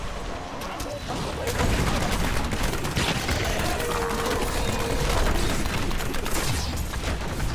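Demon Hunter grenades burst in rapid overlapping explosions during Diablo 3 combat, a dense, continuous clatter of blasts and effects that stays loud for several seconds.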